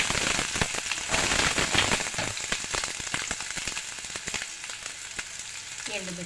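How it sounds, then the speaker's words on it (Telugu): Mustard seeds, cumin and curry leaves sizzle in hot oil in a kadai for a radish fry, a dense, loud crackling with sharp pops and spatters throughout, close up and alone. "ఒక కడాయిలో ఆయిల్ పెట్టుకొని ఆయిల్లో ఆవాలు, జీలకర్ర,"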